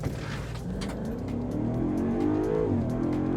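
A Land Rover Defender 110 with a 5-liter supercharged V8 accelerates hard, its engine note climbing steadily under full throttle as heard from inside the cabin, loud and continuous with no talk.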